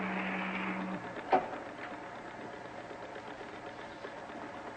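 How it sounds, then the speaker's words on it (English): A low motor hum drones steadily throughout at moderate loudness, with a short mechanical whir in the first second and a brief sharp clunk soon after, without any talking. "The sound of a motor?"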